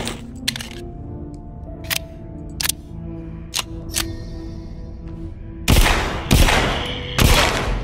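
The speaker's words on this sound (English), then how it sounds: "Fire pistol?" Several sharp pistol shots ring out in a video game, a few spaced single cracks followed by three louder, broader blasts near the end, over a low background hum with no talking.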